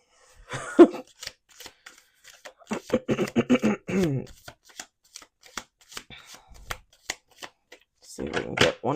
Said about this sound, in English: I always like to just finish out my shuffle.